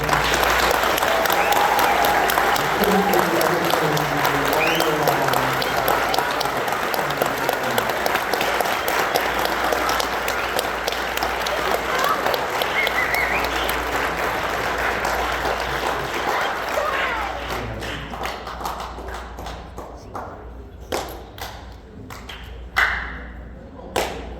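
A school concert audience applauds student performers, a loud, sustained wash of many hands clapping close and full for about sixteen seconds, then thinning into scattered individual claps and thumps as it dies away.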